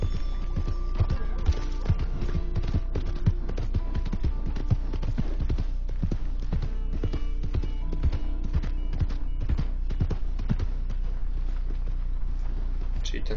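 Horse hooves clip-clop in a steady walking rhythm in Red Dead Redemption II, a long run of crisp close-by hoof strikes, with a voice talking over them.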